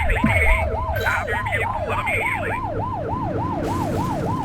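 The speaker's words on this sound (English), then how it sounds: "Get behind them and flip the siren and make them pull over." Wailing police car siren from The Precinct video game, a steady rising-and-falling electronic whoop repeating about every third of a second, loud and close over a low engine rumble, without talk.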